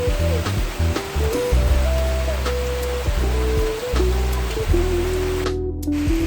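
Steady rain falls all day, a dense, even wash of hiss that carries on without a break, with low tonal sounds running beneath it and no one talking.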